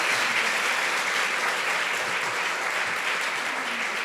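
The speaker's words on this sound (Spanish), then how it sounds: "recibirla con un grandísimo aplauso" Audience applause welcoming a guest speaker at a talk on Olmec colossal heads, a steady dense wash of many hands clapping throughout, fairly loud and continuous with no voices over it.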